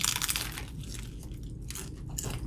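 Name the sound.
crunching bite of a Burger King taco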